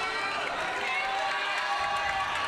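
A college pickleball championship crowd cheers and shouts in a sustained, energetic roar, fairly loud and continuous, with indistinct voices woven through the noise.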